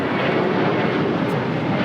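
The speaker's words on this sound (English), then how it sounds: "American Airlines 1409 taking off to Nashville, Tennessee on a 737-800" An American Airlines Boeing 737-800 takes off at LAX, its jet engines a loud, steady, broad roar with no voices over it.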